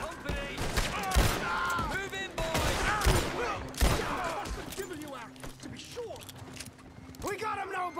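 Gunshots ring out in a video game as a lock is shot, several sharp reports scattered through a busy scene while a voice talks over them.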